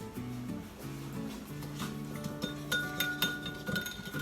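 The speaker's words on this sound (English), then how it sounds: "we just want to whisk that together" A whisk clinks rhythmically against a bowl while butter and minced garlic are beaten together, giving quick, bright metallic taps, some louder than others, over a faint tonal background.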